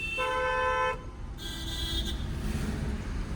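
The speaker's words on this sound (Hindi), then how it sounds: "लॉन्ग हॉर्न प्रेस करो" A car horn is held down for a sustained honk during a driving lesson, followed by a briefer, fainter tone, all over a low rumble of engine and road noise.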